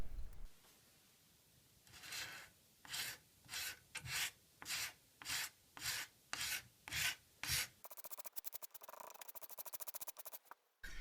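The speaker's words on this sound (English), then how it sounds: "If you haven't discovered a card scraper yet, they're awesome tools for leveling things out." A card scraper levels wood on a repaired chair leg, rasping in about ten even, close strokes, then shifting into a quicker run of short scrapes, with no talking.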